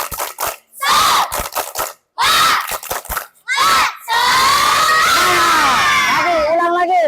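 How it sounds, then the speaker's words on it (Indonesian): A group of children shouting a tepuk semangat chant in a classroom: loud bursts of rhythmic clapping and voices in short, separated phrases, then rising into sustained excited cheering and yelling. "Tepuk semangat."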